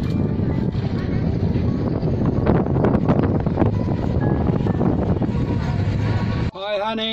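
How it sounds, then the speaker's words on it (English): Strong wind buffets the microphone outdoors in Osaka, a steady, loud roar of gusts filling the whole clip until it briefly drops near the end. "It's very windy."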